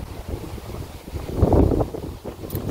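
Gusty wind buffeting the microphone at a free camping spot on New Zealand's South Island, uneven low rumbling bursts that swell to a stronger gust midway through, with no speech.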